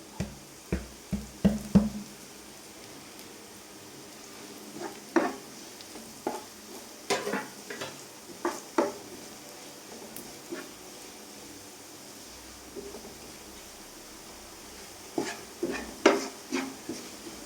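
Spice powders sizzle softly in a pan while a spoon stirs, with a series of clear scraping knocks against the metal spaced out over a quiet, steady frying hiss.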